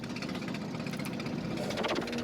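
Boat engine chugging steadily on a ride near Jaflong, Sylhet, a continuous low rumbling drone with a pulsing mechanical rhythm that stays constant throughout.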